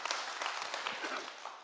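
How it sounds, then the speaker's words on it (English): A church congregation applauds together for a brief stretch, a steady wash of many hands clapping at moderate distance with no one speaking over it. "give yourself a good right round of applause"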